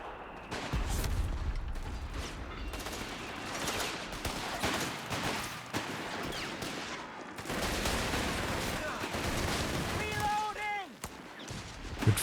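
Machine gun fire rattles through a Company of Heroes 3 battle, mixed with rifle shots, explosions and busy combat noise at a steady loud level, with a commentator talking over much of it.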